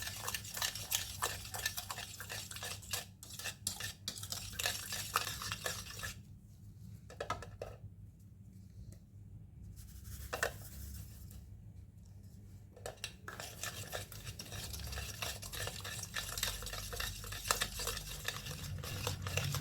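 Eggs and sugar being beaten into foam for a stovetop sponge cake, a continuous whirring and scraping in a bowl with brief pauses midway, steady and close.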